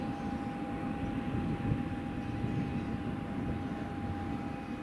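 A Wizz Air A321neo airliner lines up on runway 05 at Madeira Airport, its engines giving a steady, moderate low rumble with a faint tonal whine, heard from a distance.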